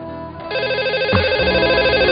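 A telephone rings loudly and close by in a home setting, a warbling electronic trill that starts up after a brief quieter moment and keeps going steadily, with no one talking over it.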